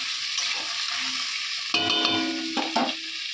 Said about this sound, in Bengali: দেখো মশলাগুলো দিয়ে দিয়েছি তো একটু কষানো হবে